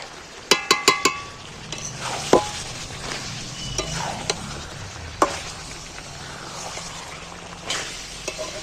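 Chicken being stir-fried dry in a pan after chili powder is sprinkled in, with a soft sizzle beneath sharp metal clinks and scrapes of a spoon against the pan, a quick burst of taps near the start.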